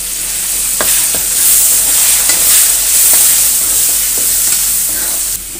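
Chopped tomatoes fry in a pan with spices, giving a loud, constant sizzle punctuated by a few sharp clinks and scrapes of a spoon stirring.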